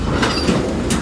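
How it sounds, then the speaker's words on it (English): A Union Pacific mixed freight train rolls past Central Avenue in Metairie, its steel wheels clacking loudly and steadily at close range in a short rumbling burst. "you can also hear the train moving and all of that"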